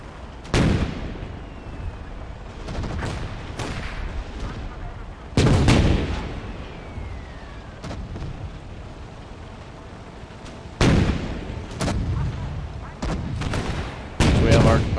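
Battle gunfire and artillery from the World War II strategy game Gates of Hell, with heavy booming blasts at intervals over a constant layer of distant rifle and machine-gun crackle, loud and close.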